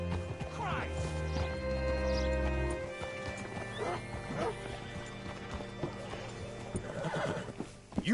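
A horse in the western video game Red Dead Redemption 2 is ridden up and hitched, with hoof clip-clops, snorts and a neigh under game ambience, while characters speak over it.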